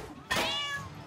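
A cat meows once in South Park: The Stick of Truth, a single clear drawn-out mew heard close and alone over faint background.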